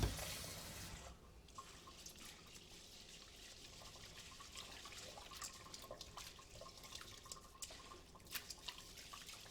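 Water trickles and splashes softly and continuously, with small drips and swishes as rice is rinsed in a bowl to wash off dirt and dust, leaving the water murky; no voices.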